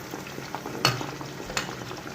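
Cauliflower, potato and capsicum fry lightly in a pan with a soft continuous sizzle, broken by a couple of sharp clinks or stirring knocks, no voices.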